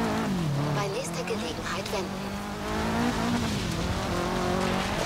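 A Mitsubishi Evo and Subaru Impreza race in Forza Horizon 3, a steady engine drone rising and falling in pitch with a brief squeal of tires, while someone talks over it.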